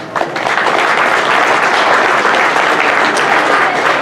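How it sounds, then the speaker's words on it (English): Sustained audience applause at a cybersecurity talk, steady and dense for about four seconds as a crowd claps for a speaker's introduction. "Let's give him a big round of applause."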